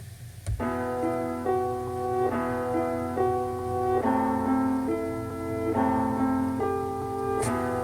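A repeating UK drill beat piano riff of stacked chords in a steady, moody pattern over a low sustained bass, playing alone without any voices.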